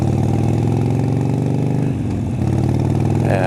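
Motorcycle engine running steadily while riding on the way to work, a loud continuous mid-range drone with a brief dip in pitch partway through before settling back, no talk over it.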